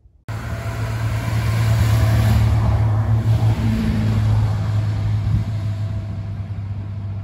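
Abarth 695 Rivale with the convertible top lowered, its exhaust giving a deep, steady rumble from inside the moving car, loud and continuous after a quiet start.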